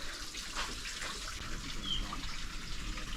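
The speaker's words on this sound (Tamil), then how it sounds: "உள்ளக்க தண்ணி கொட்டிக்கிட்டு இருக்குது. சவுண்டு கேட்குதா உங்களுக்கு?" Spring water gushes steadily from a rock source on Velliyangiri mountain, a close, continuous broadband rush that stays at an even level from start to finish.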